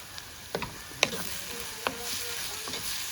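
Curry leaves frying in oil with other ingredients make a soft, steady sizzle, broken by a few sharp scraping and stirring clicks from a utensil in the pan.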